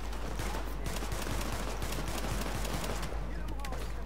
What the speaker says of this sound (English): Pistols have unlimited ammo, so that's nice.